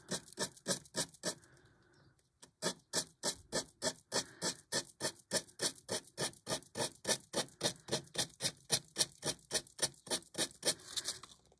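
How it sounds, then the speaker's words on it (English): Sandpaper rasps back and forth along an edge in a fast, steady rhythm, with a brief pause near the start before the strokes resume. "Put a little bit of sanding paper and we'll just take the edge off."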